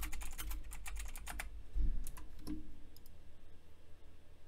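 Quick bursts of clicky keystrokes on a computer keyboard, close and fairly quiet, with a few heavier thumps and pauses as the typing continues alone.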